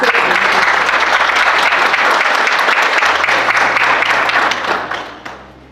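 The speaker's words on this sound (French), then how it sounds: "Applaudissez." An event audience bursts into dense, steady applause for several seconds, many hands clapping at once, before it tapers off and fades near the end.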